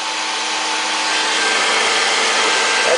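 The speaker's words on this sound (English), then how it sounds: "That's the main hair dryer, that's running." A main hair dryer in an automated setup for keeping water pipes from freezing runs with a steady, unbroken broadband whoosh and a faint tonal whine, close and constant for the whole stretch.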